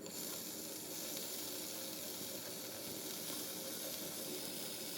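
Oil heating in a pan gives a faint, steady hiss and sizzle that continues evenly, with no other sounds.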